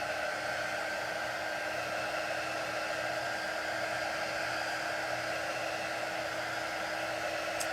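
A hair dryer blows steadily on chalk-painted lemons, a constant, close, even whir with a faint high whine that holds for the whole stretch, with no voices over it.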